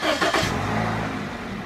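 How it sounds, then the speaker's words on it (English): A 2006 Toyota Corolla engine, just fitted with new spark plugs, cranks briefly and then settles into a steady, smooth idle hum, close and fairly loud, with no talking. "Let's start this vehicle up."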